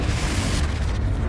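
Short heavy blast from the Confringo spell in Hogwarts Legacy, a loud dense boom filling the whole moment with low rumble and hiss, no voice over it.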